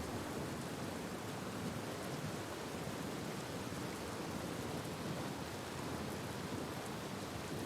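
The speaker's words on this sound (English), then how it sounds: "Oh, a little bit of rain coming down." Light rain falls steadily, forming a faint, even hiss of drops with no break across the whole stretch.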